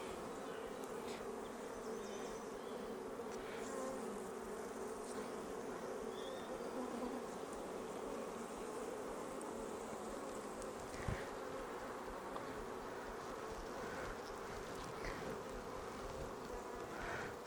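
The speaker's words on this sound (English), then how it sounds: "Go away, little bee." Honey bees buzzing around an opened backyard hive being inspected, a dense continuous drone with individual bees passing close to the microphone and a brief knock partway through, no talking.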